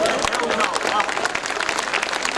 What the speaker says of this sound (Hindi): इतनी तालियों से काम चलेगा नहीं,